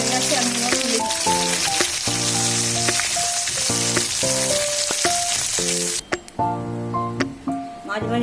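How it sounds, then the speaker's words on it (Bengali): Bay leaves, a dried red chilli, small cardamom and cinnamon sizzle in leftover fish-frying oil, a continuous near crackle under background music that thins out near the end. "মাছ ভাজার তেলেই ফোড়ন দিচ্ছি 3টে তেজপাতা, একটা শুকনো লঙ্কা, ছোট এলাচ দারচিনি"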